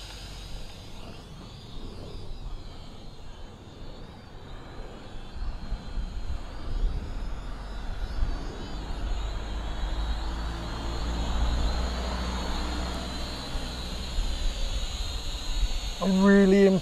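A small JJRC H5C quadcopter flies briskly in high rate mode, its thin motor whir faint and shifting in pitch over a low background rumble, with brief talk near the end.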